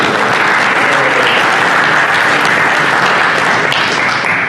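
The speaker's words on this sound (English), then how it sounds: "I just wanted to have a round of applause for the EarthBend team" Loud, sustained clapping from an audience at a security technology showcase event, a thick continuous roar of many hands without a break from start to finish.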